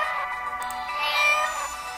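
A cat meows in the Czech adventure game Polda 5, a drawn-out, fairly faint electronic-sounding meow with no talk over it.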